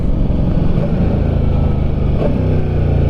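A 2022 Ducati Diavel 1260S motorcycle downshifting, a loud, close engine rumble with a brief shift in pitch partway through as the gear drops, no talking.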